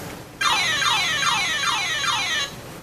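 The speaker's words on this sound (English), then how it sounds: "when you press dragon flying, you hear a series of siren-like rising and falling notes" An electronic maze game plays its dragon flying effect: a loud synthetic tone sweeping down and up in about five quick siren-like waves, heard alone for roughly two seconds.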